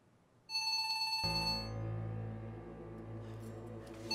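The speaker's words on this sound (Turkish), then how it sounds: "Bu telefona cevap vermem lazım." A telephone rings in a dramatic domestic scene, a bright repeating electronic ring starting about half a second in, then continuing beneath swelling music for the rest of the moment.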